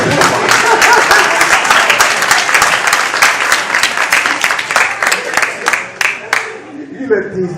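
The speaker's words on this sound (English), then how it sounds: "Give yourself a round of applause." An audience at a live hip-hop show in Norfolk, Virginia gives a loud, dense round of applause with sharp claps that gradually thin out and fade near the end.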